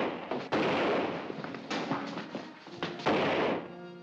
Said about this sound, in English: Those were shots.